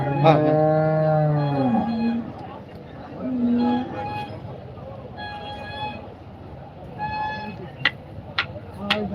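Cattle at a busy livestock market moo loudly and nearby, with one long drawn-out low call followed by several shorter moos and lows, while people talk in the background.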